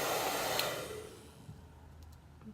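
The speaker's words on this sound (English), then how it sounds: "I'm just gonna take it with my blow dryer and the toothbrush and slide it along" A blow dryer works over hair, used with a toothbrush to smooth flyaways for a sleek middle-part ponytail; its close, steady whoosh is loud at first, then fades and drops away into near quiet.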